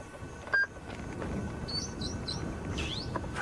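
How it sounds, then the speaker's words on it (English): Faint parrot calls chirp and squawk in short bursts from distant trees in Kenya at sunset over a steady outdoor background hiss, with one brief sharper call near the start. "We can hear them squawking away."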